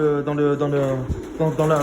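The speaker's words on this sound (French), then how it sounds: "les pigeons, vous voyez, regardez, ils arrivent dans le couloir" Pigeons cooing as they come out into a corridor, a few close, throaty repeated coos in quick succession, with someone talking alongside.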